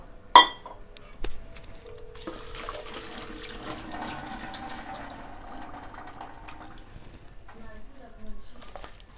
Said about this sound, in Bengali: জল দেবো। জল দিয়ে বরবটিগুলো ভালো করে আমরা সেদ্ধ করে নেব।